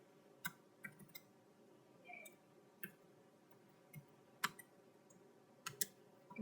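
Faint, scattered key clicks come from computer keyboard typing during code entry, sparse and irregular over a quiet room hum.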